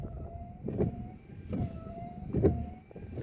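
A car's windshield washer and wipers running during a pre-drive check: a low motor whine under rhythmic wiper sweeps, about one every second, close and moderately loud.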